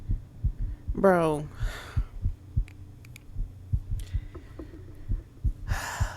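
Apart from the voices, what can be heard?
heartbeat sound in a horror video game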